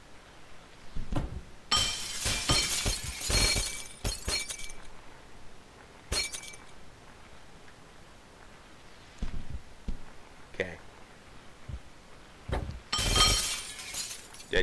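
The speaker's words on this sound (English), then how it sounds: "Gotta break all the glass." Glass shattering in the Happy Wheels video game, in several loud bursts of breaking and tinkling shards spread across the clip, with quieter thuds and clinks between them and no talking.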